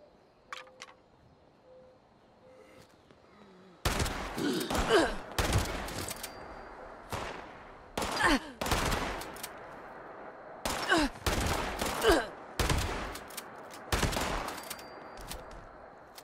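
Shotguns blast repeatedly in a Fallout 76 firefight: loud, sharp bursts come in rapid clusters after a quiet opening, echoing in rough, irregular volleys with brief pauses between groups.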